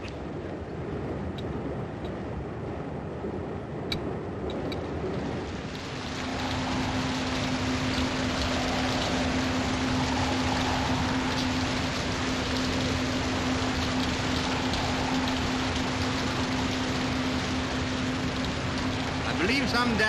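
Steady rain falls in a 1942 British wartime film scene, a dense continuous hiss of drops throughout, with a low tonal hum entering partway and persisting beneath it, no clear talk over the downpour.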